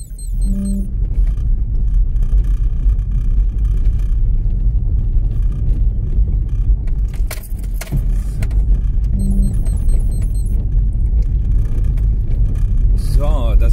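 A car drives steadily along a road, its engine and tyre rumble loud and continuous throughout, with brief chimes from a navigation device near the start and again later.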